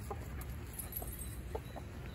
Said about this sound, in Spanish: Aquí está mi gallo, Rayo.